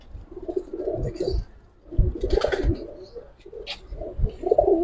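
Several pigeons in a loft coo in low, repeated throaty bursts at close range, with a few sharper flutters or clicks between them and no talk.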